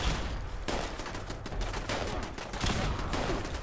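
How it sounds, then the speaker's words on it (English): Explosions and gunfire from Fallout 76 fill the scene: dense, rapid volleys of shots and blasts crackle continuously at high volume, with sharp bursts punctuating an unbroken roar of combat. "Oh, the explosions are not friendly."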